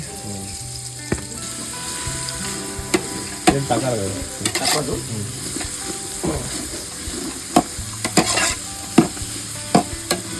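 Steady sizzling of onions frying for tempering, with frequent clinks and scrapes of stirring in a pan and a few brief spoken words.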